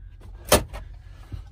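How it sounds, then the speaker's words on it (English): A glove compartment lid pops open with a single sharp latch click inside the cab of a 2017 Kenworth T680 truck, followed by a softer knock, close and alone with a quiet cabin hum beneath. "Let's check the glove compartment"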